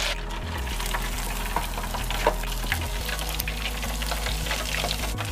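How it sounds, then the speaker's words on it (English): Spicy garlic chicken wings fry in hot oil, a steady close sizzle and crackle throughout, with no voices. "And the chicken is finished frying."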